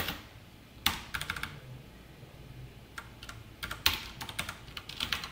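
Quick bursts of key clicks from a computer keyboard while code is written, close and fairly quiet, with short pauses between clusters of keystrokes.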